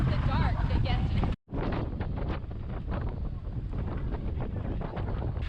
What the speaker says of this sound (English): The wind is pretty tough today.